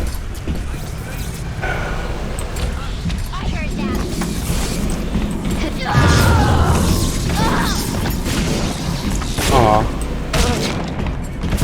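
Gunfire in BioShock Remastered breaks out amid loud, dense game chaos, with bursts, crashes and booms layered over music and mechanical noise, while voices talk throughout.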